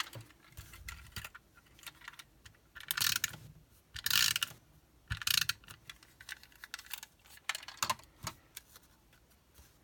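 A snail adhesive tape runner is pulled across thin Whisper White cardstock during paper crafting, giving several short ratcheting, clicking mechanical bursts with pauses between them, close and fairly quiet.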